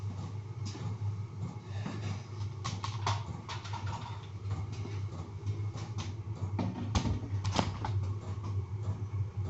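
A diesel heater runs in an off-grid garage, giving a steady low hum throughout, partly under scattered taps and clatter from nearby work; no one speaks.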